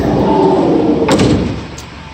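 Sliding side door of a 2018 Ford Transit T-250 mid-roof long-wheelbase cargo van rolling along its track, a loud close rumbling slide ending in a short latch clack.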